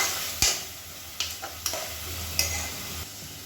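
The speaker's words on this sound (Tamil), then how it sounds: "இஞ்சி பூண்டு பேஸ்ட்டையும் சேர்த்து வதக்கி விட்டுக்கலாம்" Ginger garlic paste and onion paste sautéing in oil in a pan for a coconut milk mushroom biryani, a steady soft sizzle broken by a few sharp scrapes and clinks of a stirring spoon.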